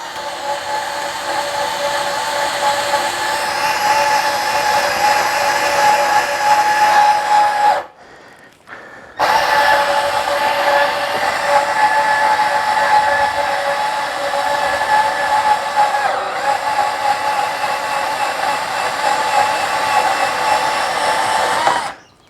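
A Milwaukee M12 cordless bandsaw slices through rigid metal conduit with a loud, steady whine for about eight seconds, stops briefly, then resumes and cuts continuously to the finish.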